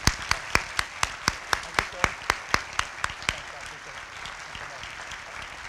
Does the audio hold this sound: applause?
yes